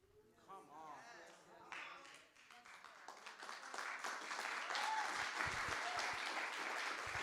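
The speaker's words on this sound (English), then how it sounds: "Come on, keep clapping." An audience breaks into applause that builds from scattered claps into dense, sustained clapping, while a speaker's voice carries over the start.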